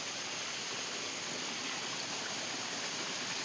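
Dirty floodwater rushes past in a continuous, broad, hissing flow, steady and fairly close with no breaks or voices over it.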